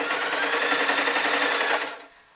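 A sewing machine runs steadily, stitching a circular seam on fleece fabric for a thermal hat; the fast, even whirr holds loud and close for about two seconds, then cuts off as the machine stops.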